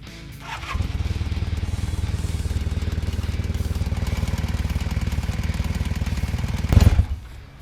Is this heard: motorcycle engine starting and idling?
yes